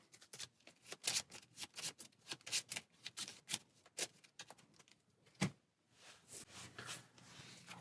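Cards being shuffled for a Marvel Champions card game, a close, crisp series of rapid riffling bursts in quick rhythm, pausing briefly before a final softer flurry.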